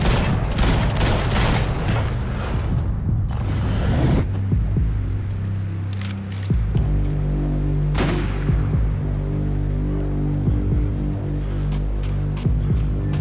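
Sustained suppressive gunfire in the video game Max Payne 3, with dense bursts and booms over a steady low hum, loud and continuous through the whole stretch.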